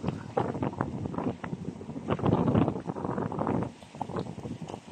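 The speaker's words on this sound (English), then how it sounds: "Oh, so freezing, so windy right now." Gusty wind buffets the microphone in uneven bursts, swelling loudly in the middle before easing off, with rustling and knocking close by.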